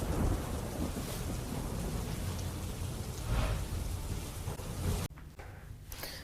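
Heavy rain pours down steadily in Diu, Gujarat, a dense close roar of drops on surfaces with low thunder rumbling beneath, the downpour dropping in level briefly near the end before resuming.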